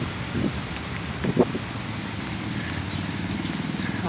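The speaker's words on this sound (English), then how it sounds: "Just as the rain is getting a little stronger." Steady rain falling on a walking trail in Mexico City, a constant hiss that holds evenly throughout, with a couple of brief louder rustles near the start.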